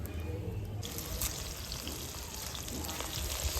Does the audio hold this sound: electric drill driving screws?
no